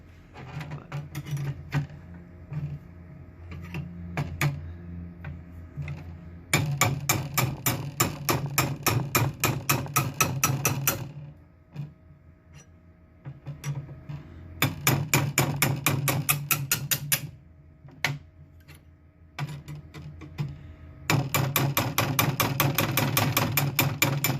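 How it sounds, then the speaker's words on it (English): Rapid metallic strikes of a small ball peen hammer on a rusty McCulloch Model 77 chainsaw chain in three long bursts, separated by quieter stretches of scraping and light tapping with a pry tool. "I'm just using a little ball peen hammer and a pry thing"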